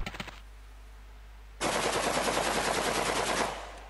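A machine gun in a video game lets off a loud sustained burst of about two seconds after a few short shots and a quiet gap, then cuts off.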